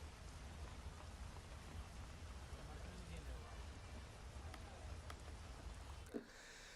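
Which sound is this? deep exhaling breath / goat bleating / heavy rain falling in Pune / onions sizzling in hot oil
heavy rain falling in Pune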